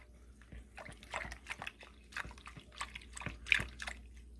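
A clean hand swishes through warm water in a bowl while mixing homemade pizza dough, giving soft, quiet sloshes and drips in an uneven rhythm, close by.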